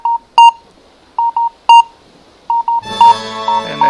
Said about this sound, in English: You can hear the dig, the beeps